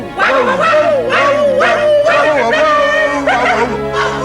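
Several voices mimic dogs barking in a loud, repeated rhythmic chorus of woofs, close up, over a steady background tone.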